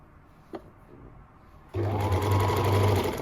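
A sewing machine starts up after a short quiet pause with a faint click, then runs in a steady, close whirring hum while stitching the sleeve of a blouse.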